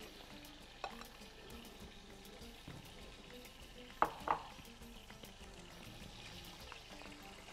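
Butter melting in a hot pan for steak, with black pepper and a pinch of salt, gives a soft, steady sizzle, faint and close, with a few clinks and stirring sounds.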